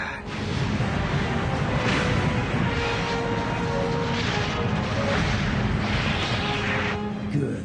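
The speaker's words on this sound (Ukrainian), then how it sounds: "Променева гармата." Repeated booming blasts of a beam cannon in the animated cartoon Transformers Energon, loud and heavy, firing in several bursts over a low rumble.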